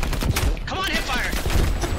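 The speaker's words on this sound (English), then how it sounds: "Come on, hipfire!" Rapid hip-fire gunfire in Call of Duty Black Ops Cold War, a dense loud burst of automatic shots filling two seconds, with a player talking over it.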